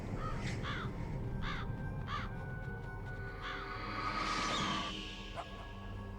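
Ravens in the video game Metal Gear Solid give a series of harsh caws, several short calls in quick succession, over a dense, continuous game ambience.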